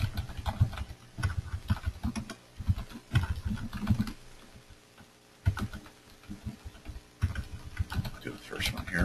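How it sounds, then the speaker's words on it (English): Rapid bursts of typing on a computer keyboard, close and crisp, with clustered keystrokes broken by short pauses throughout. "Let's go ahead and just type it in."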